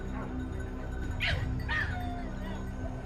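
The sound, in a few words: hunting dogs barking louder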